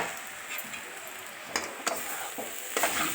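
Washed puffed rice (murmure) is stirred in a hot pan: a soft continuous sizzle with a few sharp scraping strokes of the spoon against the pan, close by.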